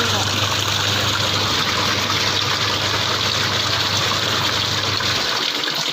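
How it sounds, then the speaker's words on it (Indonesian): A washing machine runs after being cleaned, giving a loud, steady mechanical hum with rushing water that continues without a break and cuts off near the end. "mesin cucinya berfungsi kembali"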